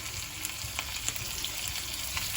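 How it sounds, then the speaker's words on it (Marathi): Bangda fish, four pieces, sizzle steadily in hot oil in a pan, a dense, even crackle with small pops scattered through it, close and constant with no talking. "टाकलंय तेल चांगलं. आता मच्छी त्याच्यामध्ये मी सोडते."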